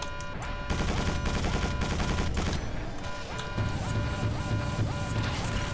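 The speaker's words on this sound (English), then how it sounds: "its machine guns take out my shields instantly" Enemy machine gun fire in the Quake 4 video game, a dense rattling stream of rapid shots layered over mechanical game noise and a repeating tonal pattern, loud and continuous throughout.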